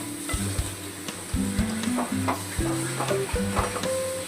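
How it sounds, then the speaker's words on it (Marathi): A spatula stirs boiled potato sabzi in a pan, scraping and clinking against the metal over a soft sizzle, and tonal squeaks sound as it drags along the pan. "व्यवस्थित एकदा परत हलवून घेऊया।"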